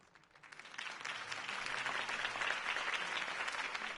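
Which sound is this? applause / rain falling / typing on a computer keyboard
applause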